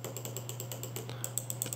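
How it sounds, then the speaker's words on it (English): Quiet, quick clicks from the buttons of a Delux M631 gaming mouse, a run of light taps in an uneven rhythm over a steady low hum, close to the microphone with no talking. "The left click is clicking very well."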